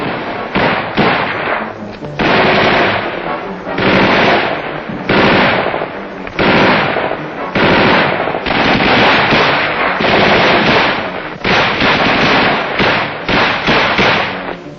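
Sustained automatic machine gun fire during a Viet Cong ambush in the Vietnam War, with M113 armored carriers nearby. The bursts are loud and dense and repeat in rapid clusters, with short gaps between them, for the whole stretch and no talk.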